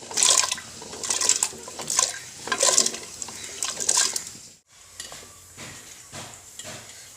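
Tapioca pieces drop into a pot of boiling water for kappa biriyani, making a series of rhythmic, splashy watery bursts followed by softer, continuous bubbling and swishing.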